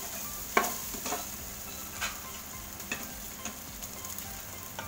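Shrimp paste sautéing with onion and garlic in a pan for pinakbet, a quiet steady sizzle broken by several sharp spatula scrapes and taps at irregular intervals.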